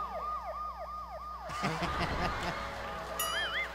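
A wailing siren sweeps up and down steadily, then gets covered by a burst of loud nearby noise and overlapping voices before a second siren tone rises at the end.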